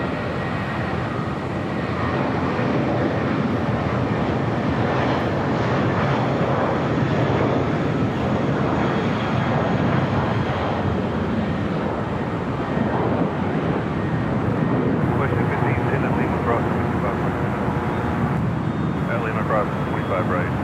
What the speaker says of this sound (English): Delta 757-200 coming in from Guatemala City, flight 1903.